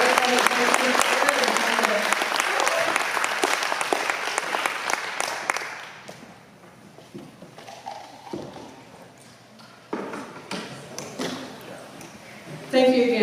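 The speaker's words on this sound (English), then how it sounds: "Let's give her a round of applause, guys." Audience applause after a community health center presentation: dense, loud clapping for about six seconds, then fading to scattered claps and quiet murmuring before a brief renewed burst near the end.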